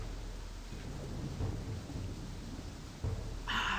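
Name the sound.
thunder and rain in WolfQuest video game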